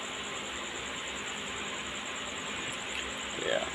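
Steady rolling rumble inside a train carriage travelling near Harmoti, broad and unbroken, with a faint high-pitched whine overhead and a brief louder bump near the end.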